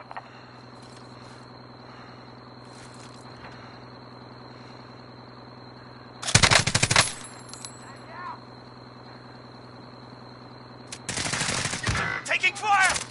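Video game gunfire rips out in two bursts of rapid automatic shots, one short and one longer, cutting sharply through a quiet bed of chirping crickets and a faint steady tone.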